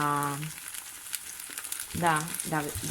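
Artichokes fry in about 40 to 50 grams of oil in a pan, a soft, steady crackling sizzle running underneath, while someone talks briefly at the start and again near the end.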